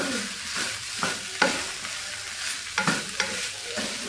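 Nasi goreng with petai being stirred in a hot pan: a bright, continuous sizzle with repeated spatula scrapes and knocks at uneven intervals.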